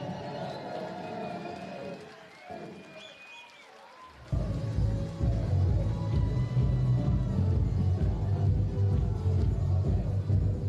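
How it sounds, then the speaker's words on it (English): Applause from a large arena crowd at the WDF Lakeside World Darts Championships bursts in loud and dense after a few quieter seconds of murmur and commentary. It then roars on steadily for several seconds. "a massive round of applause for Brian"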